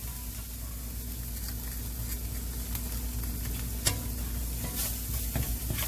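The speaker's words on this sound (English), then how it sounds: "we're kind of toasting these spices out a little bit, you guys" Spices toast with onions in a pan for stuffed meatballs in marinara, a soft continuous sizzle with faint stirring clicks under a low steady hum.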